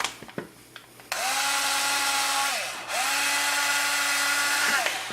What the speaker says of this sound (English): And we'll drill that through.